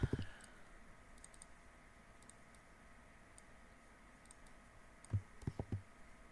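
Clicky keystrokes on a computer keyboard in a quiet room, a few taps at the start and a short quick burst near the end, with faint scattered ticks between.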